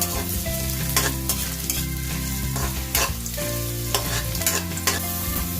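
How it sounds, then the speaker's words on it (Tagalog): Ginger browns in a hot pan for coconut-milk tilapia with pechay, making a loud, continuous sizzle and crackle with a few sharper stirring scrapes, close up and without any talking. "Ununa ko ang luya. So, medyo naka-brown ko muna siya."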